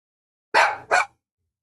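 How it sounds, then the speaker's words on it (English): A dog gives two sharp, close barks in quick succession, loud against an otherwise silent background, on bonfire night. "So you might hear my dog barking and fireworks in the background."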